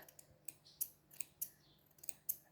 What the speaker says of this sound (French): j'ai coupé plein de petits morceaux de fil